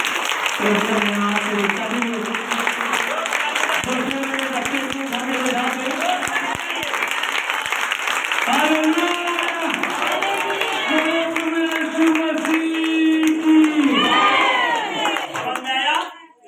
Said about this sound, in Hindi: जोरदार ताली बजाएंगे सारे लोग।